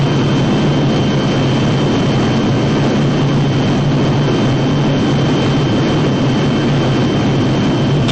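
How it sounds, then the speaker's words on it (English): Military jet engines roar loud and steady without a break, a dense low rumble with broadband blast from heavy transport jets taking off in extreme heat at an air force base. "Getting these lumbering jets up in the air in extremely hot conditions is never easy."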